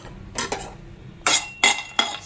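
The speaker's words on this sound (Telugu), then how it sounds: "స్టవ్ వెలిగించుకొని ముందు కాజు వేసాను." Cashews dropped into a pan on a lit stove, giving a few short, sharp clinks and scraping bursts at irregular intervals, close and fairly quiet.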